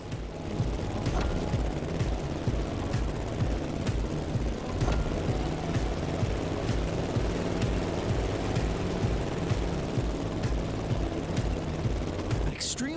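A plane engine in The Crew Motorfest racing game drones steadily and loudly for the whole stretch, with a mechanical whirring hum and faint clicking textures layered over it.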